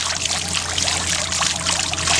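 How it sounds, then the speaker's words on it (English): Water poured over a two-tier pineapple garden fountain, a steady loud splashing and trickling flow that runs continuously with no voices. "Put some water over it to make sure that the flow is what we want."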